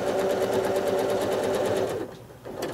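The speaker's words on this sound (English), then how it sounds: "So I'm going to travel stitch carefully along that ditch to get inside" Sewing machine free-motion quilting, travel stitching along a seam ditch, hums in a fast, even needle rhythm for about two seconds before stopping, close and clear with no one talking.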